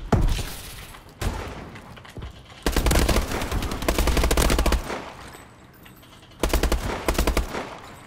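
Gunfire from dual guns in the Conker video game, loud rapid automatic bursts in several long volleys separated by short gaps, no talking.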